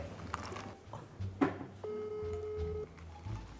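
A phone rings with a single steady electronic tone burst lasting about a second amid faint room noise and a brief knock, moderately close and fairly quiet.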